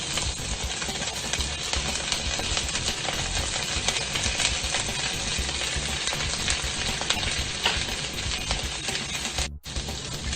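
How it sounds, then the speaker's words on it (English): Broccoli and sausage sauté in a pan for fried rice, giving a loud, dense, continuous crackling sizzle that stays even throughout and breaks off for a moment near the end. "3 to 5 minutes of sauteing the veggies and sausage"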